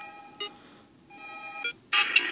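Electronic phone tones and beeps in a horror video game, two short chirping bursts followed by a louder, sustained bright ringing tone at the end, no talk.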